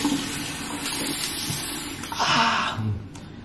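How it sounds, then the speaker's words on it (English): Cold water runs steadily from a tap at a sink during a face-rinsing skincare routine, with a brief stronger gush partway through and no voices. "I'm gonna put cold water to close the pores"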